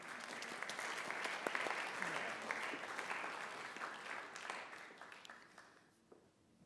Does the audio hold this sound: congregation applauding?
yes